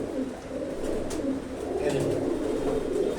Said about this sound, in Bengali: পায়রা এত টেম্পার, পায়রা হাতে রাখা যাচ্ছে না